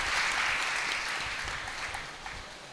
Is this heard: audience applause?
yes